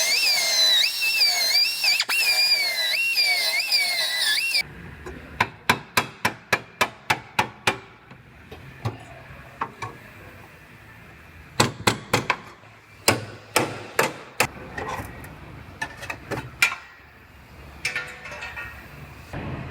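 Cutting out a Sprinter van frame rail during collision repair: a whining tool gives way to loud, close bursts of sharp metallic strikes in rapid groups, separated by short pauses.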